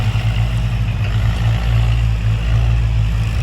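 A Kubota M49 tractor engine pushing soil to build up a rice paddy bund, a loud, steady low diesel drone close by, unbroken for the whole stretch with no talk.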